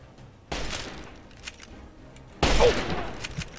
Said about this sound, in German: Wo kam der Schuss her?